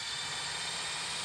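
Jet engines roar with a steady, broad whine and rushing noise, constant and fairly distant for a brief moment.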